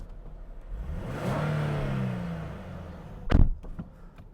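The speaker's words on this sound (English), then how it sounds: "And this engine, the sound is absolutely awesome." A 2014 Nissan 370Z with its 3.7-litre V6 revs up close by, the engine note swelling and holding for a couple of seconds before easing off, followed by a sharp knock near the end.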